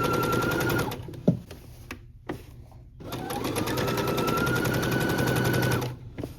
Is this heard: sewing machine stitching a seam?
yes